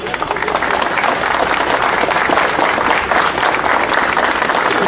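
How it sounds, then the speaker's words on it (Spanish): Sustained, dense applause from an audience at a public freedom-of-expression gathering in San Cristóbal de Las Casas, Chiapas, greeting a speaker; loud and steady clapping fills the whole stretch without pause. "Un fuerte aplauso para el doctor John Ackerman"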